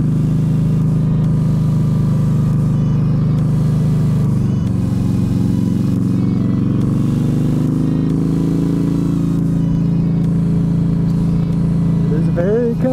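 Steady engine drone of a 2015 Yamaha Stryker cruiser motorcycle riding a winding mountain road, a continuous low hum with slight pitch shifts through the bends, heard under a rider talking.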